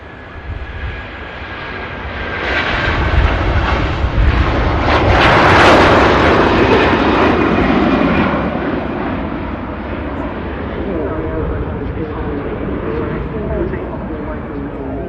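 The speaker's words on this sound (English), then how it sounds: "As a Virgin Atlantic A330 begins its takeoff roll as well" A Virgin Atlantic Airbus A330 jet at Manchester Airport rolls for takeoff, a deep roar swelling to a loud broadband peak then slowly receding into a distant rumble, with a voice talking over it.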